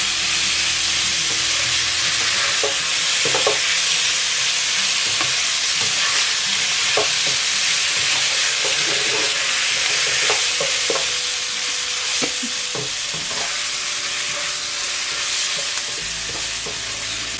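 Pre-boiled and fried fish noodles and fish balls stir-fried in a pan for a yellow chili dish, with a loud, continuous close-up sizzle and frequent light scrapes and clinks of the spatula throughout.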